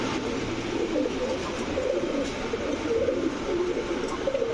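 An imported male Arabian Koka pigeon cooing repeatedly in a low, rolling call, fairly quiet against a light background hum, with no talking.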